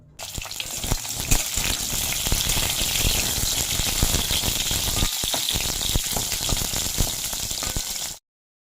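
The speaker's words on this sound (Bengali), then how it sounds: "তো চলো পটল ভাজাটা স্টার্ট করে দিই" Pointed gourd (potol) frying in a pan, a dense, steady sizzle that holds loud and even for about eight seconds with crackling bursts and no voices, then cuts off abruptly.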